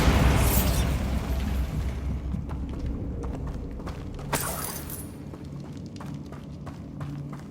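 A Bombarda spell blast in the game Hogwarts Legacy bursts with a loud booming explosion, followed by a rumbling tail and scattered crackling debris pops fading over several seconds.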